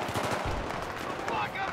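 Rapid gunfire from the shooter video game Battlefield 3 on hard difficulty, a dense continuous burst of loud automatic shots filling the whole stretch, with faint speech mixed underneath.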